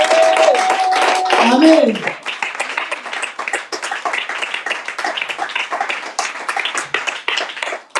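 A congregation claps during a church service, a dense burst of applause for about two seconds before a preacher's voice carries on over scattered faint noise.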